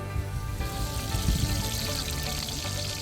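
Peanut oil pours and trickles into a kadai, with faint sizzling and splashing close by for a few seconds, no talking.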